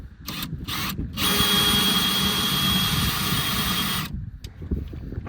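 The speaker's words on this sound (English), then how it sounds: "we're going to drill it out right there" A power drill whines steadily as it bores through a 2015+ Ford F-150 for mounting holes, starting with a few short bursts before running continuously, then stopping.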